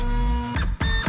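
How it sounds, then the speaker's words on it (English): A printer jamming, giving a steady mechanical whir with tonal hum that breaks into two rough grinding bursts, close and fairly quiet, with no voices. "You know that sound? You don't hear that anymore, do you? Printer jam."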